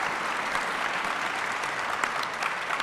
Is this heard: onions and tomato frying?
no